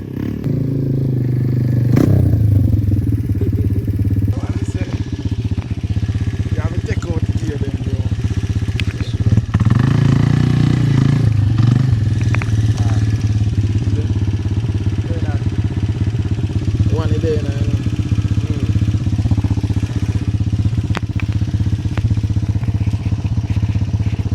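A motorcycle engine runs loud and steady while being ridden in gear, with a constant low drone, brief revs and clattery mechanical noise throughout, plus intermittent voices underneath.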